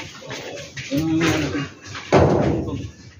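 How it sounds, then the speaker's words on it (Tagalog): A drawer is pushed into a newly installed kitchen cabinet, landing as a sudden wooden thump after people talk nearby, followed by a brief rattle. "Pasok nyo na yung drawer."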